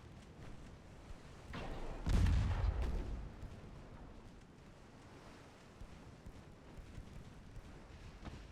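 Naval gunfire from Mark III 5-inch guns in Ultimate Admiral Dreadnoughts gives one deep, booming report with a rolling tail over a faint wind and sea wash, while quieter distant thuds follow.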